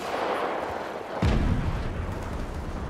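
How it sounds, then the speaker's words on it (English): Enemy airstrike explosions hit the burning Kremlin ruins in Moscow in the shooter World War 3: a low background rumble, then one heavy boom that rumbles on afterward. "Enemy airstrike fast approaching."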